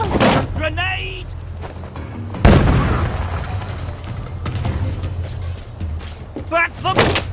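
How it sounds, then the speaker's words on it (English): A grenade going off in the video game We Happy Few, a single heavy boom partway through amid game noise, with voices shouting around it. "Grenade"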